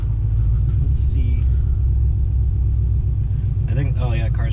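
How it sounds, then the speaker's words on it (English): A 2008 Ford Mustang GT V8 with a swapped 6R80 automatic, running lean, rumbles loud and steady at idle, with a voice talking over it near the end. "oh yeah, car's running lean there"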